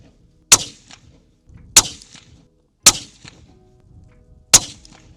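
Four sharp, loud rifle shots from a Sig Cross .308 firing Hornady ammunition, spaced about a second apart outdoors, each a crisp crack followed by a short echoing tail.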